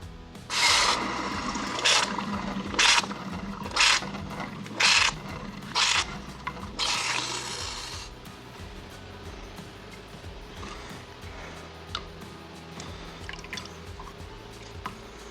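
Six or seven sharp hissing sizzles in a rough rhythm as hot metal jewelry is quenched in water, then a fading bubbling hiss.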